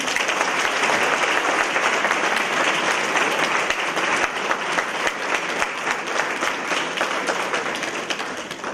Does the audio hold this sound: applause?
yes